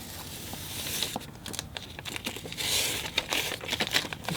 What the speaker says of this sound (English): So as I peel off the tape here,